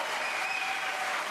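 A debate audience bursts into loud, sustained applause with cheering, a dense unbroken wash of clapping that fills the space without a pause.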